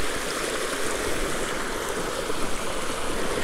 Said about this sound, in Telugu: ఇంకా ఆ పై ఎక్కడి నుంచో వస్తుంది వాటర్